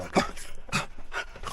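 A dog pants rapidly close by at a campsite, rhythmic breathy huffs in quick succession with faint whimpering mixed in.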